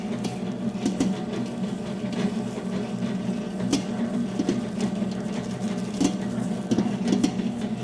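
A planetary stand mixer works brioche dough with a dough hook, a steady mechanical whir with a low hum and a rhythmic knocking on each turn, carrying on throughout.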